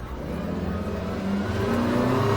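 A 2023 Stabicraft 2500 Ultracab XL with twin Yamaha outboards, running one motor with trim tabs up, accelerating onto plane: a steady engine drone rising in pitch and growing louder under wind and water noise.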